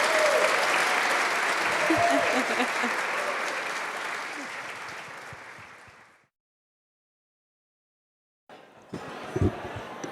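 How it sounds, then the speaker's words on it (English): Audience applause at a charity luncheon swells loud and dense, gradually fades over several seconds into silence, then a room murmur returns with scattered voices and small clatters. "If you could please join me in giving them a round of applause."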